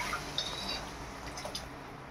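Hot water is poured into a Bengali dhokar dalna curry simmering with potatoes. The result is a soft, steady splashing hiss with a few faint clinks, quiet and close.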